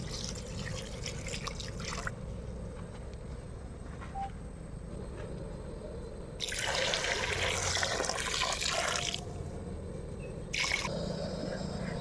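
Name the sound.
water poured into rice for chicken pulao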